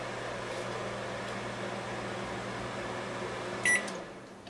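A microwave oven runs with a light bulb inside, giving a steady close hum and drone, then a beep near the end as the motor winds down.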